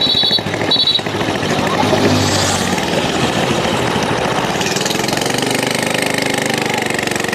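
Motorbike engine running in a street at a spring flower festival in Hanoi during Tet, a steady close rumble with rough, pulsing low-end texture that continues through the whole stretch, with faint street noise around it.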